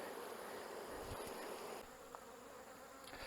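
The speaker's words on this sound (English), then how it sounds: "we're just going to knock all these bees out right out front" Dense, steady buzzing of many honey bees swarming in front of a hive, a continuous insect drone with no voices.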